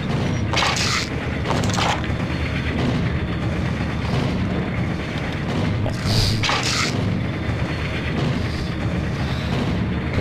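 A grenade goes off in a Max Payne game shootout, part of a loud, continuous stretch of booming blasts and heavy gunfire with rumbling debris and sharp cracks throughout.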